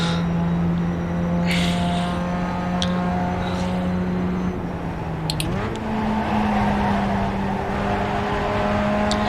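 Pontiac race car in iRacing held at full throttle around Oulton Park, a loud steady engine drone that dips briefly as it shifts pitch, then settles again and keeps roaring close by.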